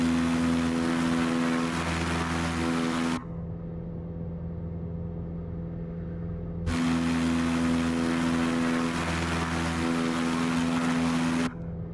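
A Super Decathlon aerobatic light airplane's piston engine drones steadily in a flight simulator, a loud tonal hum that cuts out abruptly to a quieter cockpit ambience, then surges back to full power before dropping again.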